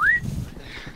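A single quick rising whistle from a Call of Duty Cold War prop hunt round, short and bright at the start, followed by low muffled game noise.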